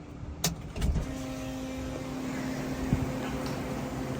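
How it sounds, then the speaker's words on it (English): A turbo Ford Foxbody Mustang has its ignition switched on: a couple of sharp clicks, then a steady electrical whine and hum as systems power up, close and continuous. "I gotta turn the ignition back on again"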